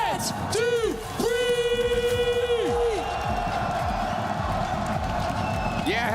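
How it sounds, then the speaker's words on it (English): Esports watch-party crowd at a Black Ops 7 event in Paris, supporting the Gentlemates squad, roars and whoops loudly and continuously, with long sustained yells rising over a dense bed of cheering throughout. "the Gentlemates crowd has come out and supported the squad"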